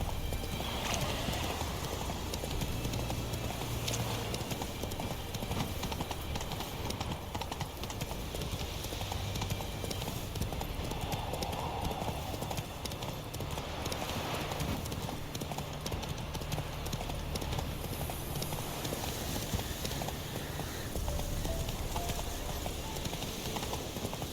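Horse hooves clip-clop steadily through the whole stretch as a horse travels in the video game The Witcher 3, mixed in with continuous game ambience and music and a faint whinny.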